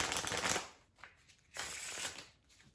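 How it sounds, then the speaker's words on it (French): A deck of playing cards is shuffled during a magic trick, giving two quick riffling bursts of crisp card flutter separated by a short pause, close and clear with no talking. "pour éviter toute tricherie, je vais mélanger le jeu comme ceci"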